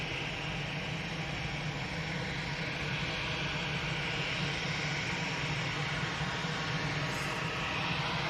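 TUI airliner's jet engines as it departs, a continuous broadband roar held at steady, moderate distance with no distinct peaks throughout.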